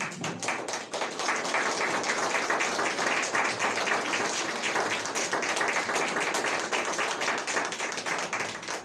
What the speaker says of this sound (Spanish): ¿Cuántos le pueden dar un aplauso al Señor esta mañana?